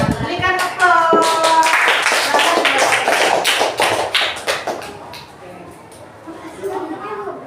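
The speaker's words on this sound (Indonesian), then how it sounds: "Berikan aplaus." Classroom audience of students and teacher clapping after a group presentation, a burst of loud, dense applause that tapers off over several seconds, with children's voices chattering over and after it.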